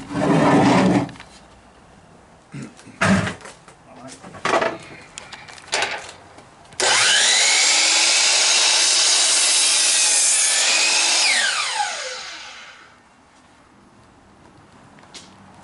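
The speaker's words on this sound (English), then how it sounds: "we'll cut this here, and then we'll cut it on our bandsaw" A bandsaw cuts through a wooden porch swing arm in one long, loud, continuous rasping pass, preceded by a few scattered knocks and handling sounds of the wood, then the blade runs down and quiets.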